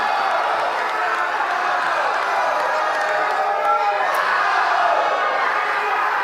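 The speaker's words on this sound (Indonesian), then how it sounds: "Kita berikan tepuk tangan yang meriah untuk paslon nomor urut 2." A large audience at a gubernatorial candidate debate in South Sumatra applauds and cheers for candidate pair number 2, a steady, dense wash of clapping and crowd noise sustained at even loudness.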